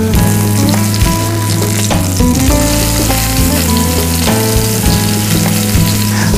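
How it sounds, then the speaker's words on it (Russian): A meat patty fries in a pan over medium heat with a steady, loud, continuous sizzle and no voices. "Пока котлета жарится"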